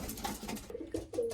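Racing pigeon hens coo softly in their loft, a few short, low throaty coos close by over a light background rustle, with no talking.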